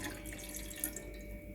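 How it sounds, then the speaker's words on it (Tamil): A tumbler of water is poured in a steady, soft, continuous stream, close by and faint, with no one talking. "ஒரு டம்ளர் தண்ணி ஊற்றிக்கோங்க."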